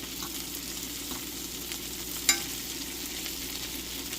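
Garlic butter shrimp fry in a pan with a steady, even sizzle throughout and one brief sharp clink partway through, no voices.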